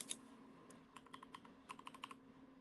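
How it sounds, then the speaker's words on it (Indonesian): Quiet, close-up tapping of a computer keyboard as a password is typed, with irregular light keystrokes in short bursts over steady room noise. "Setelah itu kita tinggal masukkan aja passwordnya."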